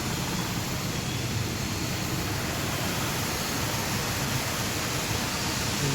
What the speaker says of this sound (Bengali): হাই প্রেশার ওয়াটার দিয়ে হাইড্রো ব্লাস্টার সিস্টেম দিয়ে নিচের দিকটা একবারে তাহলে নিচেরটা এইভাবে ক্লিন করছে